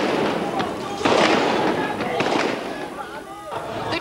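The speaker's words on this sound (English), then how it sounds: "there was gunfire from those lorries" Sharp cracks of gunfire from troops on lorries ring out repeatedly over a noisy, crowded outdoor background at Tiananmen Square, with a voice talking over them.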